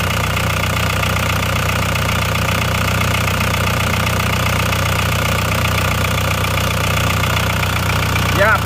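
An old car engine, left unused for three years, runs at a steady idle, close and loud, with a constant low rumble and faint knocking vibration throughout and no talk over it.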